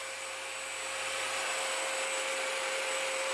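Cordless stick vacuums, a Tineco and a Kenmore, run with a steady high-pitched motor whine and broad airy suction noise, close and constant until abruptly cutting off at the end.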